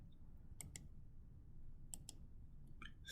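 Computer mouse clicking during spreadsheet work, a few crisp, faint double clicks in quick pairs, close and quiet over a low steady hum.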